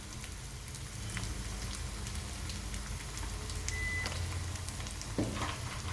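Masala fries in hot oil in a pan for a muvva dondakaya (ivy gourd) curry, giving a steady, close crackling sizzle that continues throughout with a faint beep partway through.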